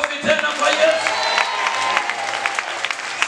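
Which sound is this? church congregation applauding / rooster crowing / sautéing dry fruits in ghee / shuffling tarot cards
church congregation applauding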